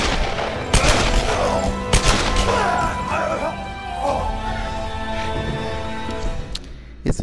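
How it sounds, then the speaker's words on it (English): Gunfire and crashing impacts ring out in the Tomb Raider video game, several sharp shots spread over a dense, busy stretch of combat noise with other effects layered underneath. "Is it me or did those shots seem a little delayed?"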